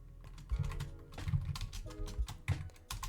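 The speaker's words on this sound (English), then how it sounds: "typing with this microphone in front of me is very annoying" Keystrokes clatter on a computer keyboard close to a microphone, a brisk irregular run of clicks with a few heavier thumps, no voices over it.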